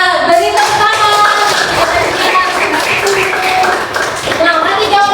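Students in a school classroom clap together for a classmate, a steady burst of hand claps filling the room with children's voices mixed in.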